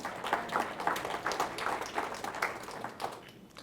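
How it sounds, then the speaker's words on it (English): A small group at a senior center gives brief, faint applause, with a few scattered claps rising and falling quietly before fading out. "no applause needed for that"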